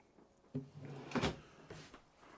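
Small dresser drawer in a 2023 Sierra 402FK front-living destination RV, giving a few faint knocks and a brief sliding rattle, quiet and close with no talk.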